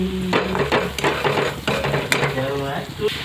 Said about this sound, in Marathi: ते खोबरं भाजून घ्यायचं